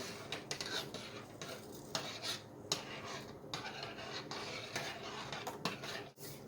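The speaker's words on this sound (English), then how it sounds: "We'll just give that a stir." A spoon stirring salt into a pot of liquid on a stovetop, making a steady scraping, rubbing sound against the pot with a few sharper clinks, close and fairly quiet.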